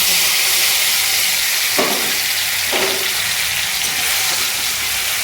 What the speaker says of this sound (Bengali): মুগের ডালটা হালকা করে ভেজে নিই।